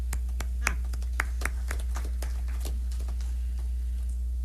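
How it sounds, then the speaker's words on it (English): A few scattered, slow hand claps at a school board of education meeting, sharp separate taps spaced unevenly, fairly faint in a quiet room with a low steady hum beneath. "Slow clap"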